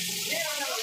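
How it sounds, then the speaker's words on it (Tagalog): String beans (sitaw) are washed under running water: a brief, steady rushing splash, close and fairly loud, with no pauses. "hugasan muna natin tong sitaw natin"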